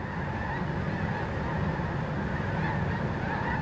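A flock of snow geese honks continuously at a hunting spot with decoys set out, a dense, steady chorus of many overlapping calls at moderate distance with no pause.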